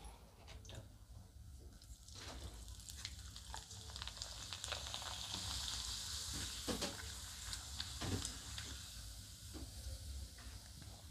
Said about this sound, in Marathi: आता हे पापड मी तुम्हाला तळून दाखवते.